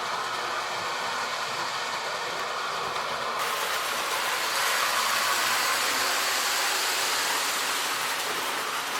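A Lionel Alaskan O-gauge model train set runs around its track with a steady, close whirring rumble of motor and wheels that holds unbroken throughout.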